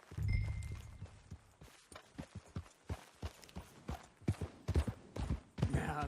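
Horse hooves clip-clop in Red Dead Redemption 2, an irregular run of close, sharp hoof strikes that quickens toward the end, with a brief low rumble at the start.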